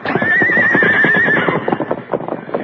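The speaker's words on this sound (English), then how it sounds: "Meanwhile, Dirk finished unhitching the horses." Horses in a radio drama give a loud, close whinny over a busy clatter of hooves and harness, the neigh fading after a second as stamping continues.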